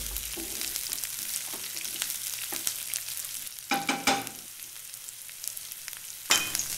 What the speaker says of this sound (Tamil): வெங்காயம் லேசாக பொன்னிறமாக ஆகிற வரைக்கும் வதக்கிக்குங்க.